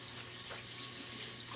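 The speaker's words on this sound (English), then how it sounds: "I'm rinsing in cold water." Cold tap water runs steadily into a sink while tie-dyed shirts are rinsed, making a continuous soft hiss and splash at low level with no speech.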